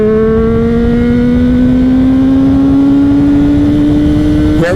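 A Honda CBR600RR motorcycle engine screams loud and close under steady acceleration, its pitch climbing smoothly in one unbroken high-revving pull with no talk.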